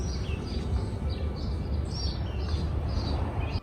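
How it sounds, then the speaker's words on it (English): Several birds chirp in short bright bursts over a steady outdoor background hum, fairly faint and scattered across the clip. "So nice out. You hear the birds chirping?"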